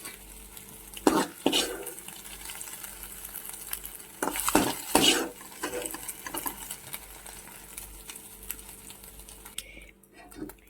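Egg for Hakka noodles frying in a pan, a soft sizzle broken by several sharp spatula scrapes and clatters against the pan, close and fairly quiet, ending in near silence.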